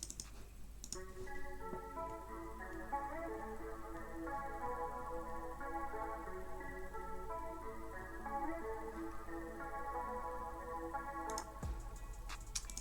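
A clean melodic guitar line processed with reverb and vintage plugins plays alone over a low steady hum, notes ringing out with a soft washed tail, with a few clicks at the start and end.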